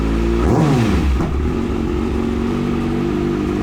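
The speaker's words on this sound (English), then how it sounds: "Should we give it a little rev?" A 2014 Kawasaki ZX6R sport bike is revved once, its engine note climbing sharply and then falling back. After that it settles into a steady, close idle.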